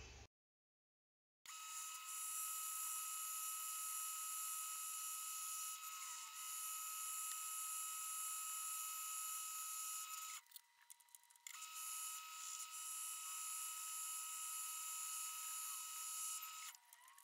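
Metal lathe turning down the end of a steel spindle for a dividing head, a steady high-pitched whining cut that runs continuously after a short silence, briefly dipping around the middle before resuming at the same level.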